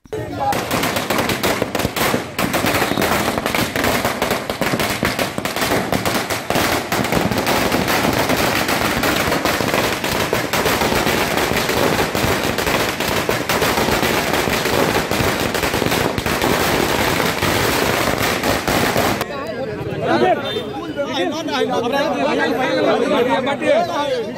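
Firecrackers set off at a street celebration of a by-election victory, with minister Dayashankar and party workers; dense, continuous crackling bursts under crowd chatter, loud throughout before cutting to quieter talk near the end.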